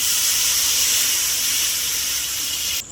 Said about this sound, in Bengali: মশলাটা কষানো হয়ে গেছে, জল দিয়ে দিচ্ছি।